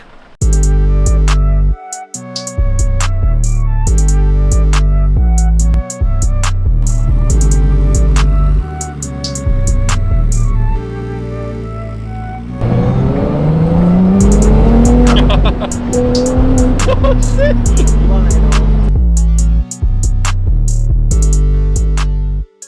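A Ferrari 296 GTS heads out on the road. Its engine revs up and pulls away in a rising, loud sweep midway through, with steady music running over the whole stretch.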